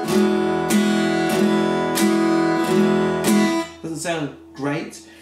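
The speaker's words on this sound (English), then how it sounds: "A lot of guitar in the beginning stages is this flick." Acoustic guitar strummed with a stiff beginner-style flicking up strum, six evenly spaced bright strums ringing close and loud, then a short passage of plucked, wavering notes at the end.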